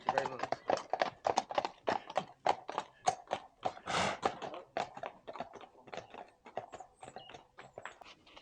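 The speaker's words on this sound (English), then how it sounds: "a beautiful horse." A ridden horse's hooves clip-clop in a brisk, steady rhythm on a hard village road in rural Dorset, close by and distinct, with a brief whoosh of movement midway.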